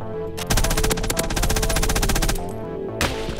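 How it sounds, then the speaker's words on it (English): Rapid automatic gunfire in Call of Duty Warzone, a loud sustained burst of closely spaced shots lasting about two seconds, followed by a brief pause and a final single shot. "Oh, getting sniped at."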